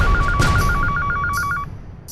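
A telephone bell rings indoors in a rapid electronic trill of repeated short pulses, loud and close, cutting off after about a second and a half.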